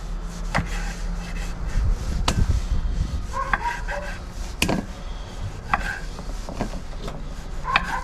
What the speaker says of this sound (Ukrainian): Вирізку ми нарізаємо невеличкими кусочками.